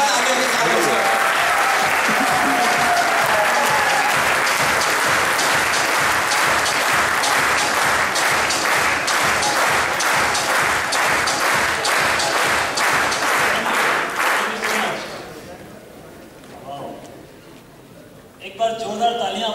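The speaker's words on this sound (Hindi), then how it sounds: "जोरदार तालियों के साथ" A large audience at a business meeting claps loudly, building into rhythmic, synchronized clapping that dies away after about fifteen seconds, followed by a quieter pause and a short burst of speech.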